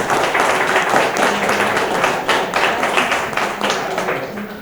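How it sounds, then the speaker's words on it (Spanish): Dense, loud applause from a seated audience at a journalists' and writers' circle gathering, steady clapping filling nearly five seconds with a few voices mixed in. "Un aplauso."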